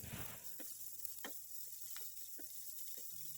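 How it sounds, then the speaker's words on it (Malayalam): Chopped bitter gourd being stirred in a pan for Kerala pavakka theeyal: faint, irregular spatula taps and scrapes recur every half second or so over a soft, low sizzle, with no talking. "ഇനി നമുക്ക് കുഞ്ഞായി അരിഞ്ഞു വെച്ചിരിക്കുന്ന പാവയ്ക്ക ചേർത്ത് നന്നായിട്ടൊന്ന് ഇളക്കി കൊടുക്കാം"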